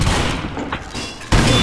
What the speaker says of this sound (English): I shot the guy point blank and it did jack!